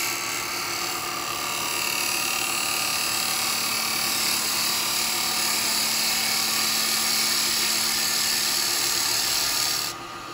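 Wood lathe turning wet eucalyptus while a detail chisel cuts on the bevel, a loud steady high whine with a constant motor hum, continuous throughout and ending abruptly.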